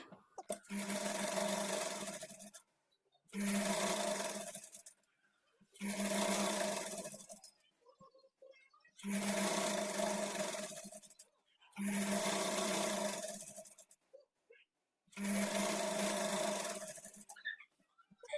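A sewing machine stitches kurti fabric in six separate runs of a few seconds each, a steady close whirring hum with short quiet pauses between runs.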